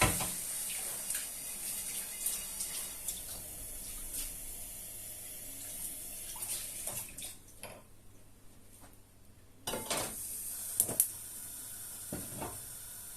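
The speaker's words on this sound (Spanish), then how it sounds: "vamos a limpiar la sartén" A frying pan being washed under a running kitchen tap, with steady close water flow, scattered clinks and scrubbing knocks, and a brief pause in the flow partway through before it resumes; no talking.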